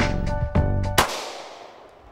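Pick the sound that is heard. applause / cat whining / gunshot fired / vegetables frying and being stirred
gunshot fired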